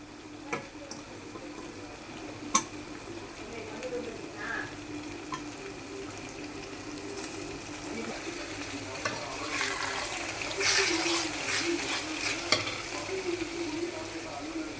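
Steady sizzling of shrimp frying in a hot pan, with occasional scraping and clinks of stirring that grow busier toward the end.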